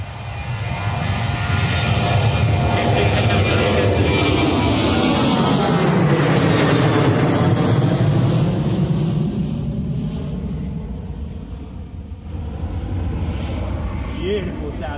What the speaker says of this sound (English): Beautiful sound there from the Jet2 holiday livery heading out to Alicante, Boeing 737